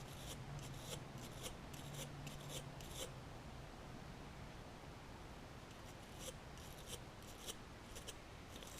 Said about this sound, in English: wire brush here. We'll just scrape some of this stuff off.